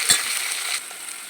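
Curry leaves, onion and green chilies hit hot oil for tomato rasam, giving a short, bright crackling sizzle. A brief burst comes first, then a steady frying hiss that fades slightly.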